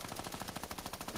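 Rapid automatic gunfire in a Fortnite Creative Mode Mythics red-versus-blue match, a steady stream of quick, evenly spaced shots at moderate level, with no talk over it.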